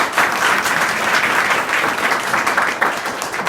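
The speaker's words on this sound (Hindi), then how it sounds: "तो जोर से ताली बजाओ।" Schoolchildren clap hard together at a school session, a loud, dense, sustained burst of applause from a large group that fills the room, no speech.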